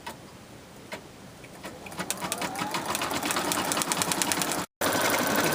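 An embroidery machine stitches white thread onto an arm warmer, its rapid, even needle ticking building from a slow start into a fast, steady rhythm close by, with a brief pause near the end.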